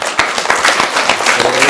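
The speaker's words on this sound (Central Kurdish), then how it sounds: "ئەی ئەگەر پرۆگرامەکەمان زۆر خۆش بێت چۆن چەپڵە لێ دەدەن" Children clap their hands together in quick, steady group applause for a short moment, loud and close with no talking.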